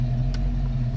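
Worn rear end of a 1974 AMC Javelin fitted with a no-slip locker, heard in reverse as a steady low rumble and drone with a brief high whine partway through, close and continuous.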